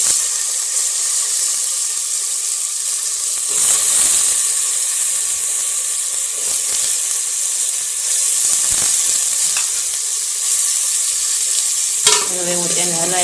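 Potatoes go into a hot pan for tempered rice cooked on a wood-fired chulha, a loud continuous sizzle broken by scraping stirs and bursts of spitting oil, close up with no talking.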